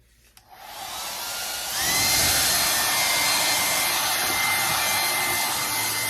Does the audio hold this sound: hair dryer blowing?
yes